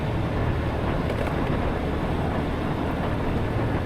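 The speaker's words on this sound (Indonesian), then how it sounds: "Suara angin sama motor tetap kedengeran" Steady roar of wind buffeting a DJI Osmo Action 4 camera microphone mixed with a droning motorcycle engine while riding, constant and loud throughout with no breaks.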